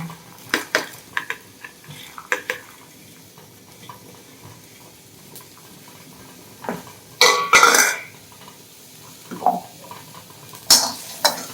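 Small onions saute in a pan for kulambu, with a low sizzle under scattered clinks and scrapes of a metal spoon against the pan, close by and irregular.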